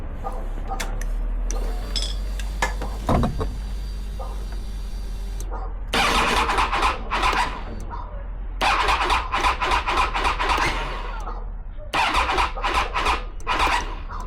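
A Triumph Tiger 800 motorcycle's starter cranks in three separate bursts without the engine catching, over a constant low hum, with people talking between attempts.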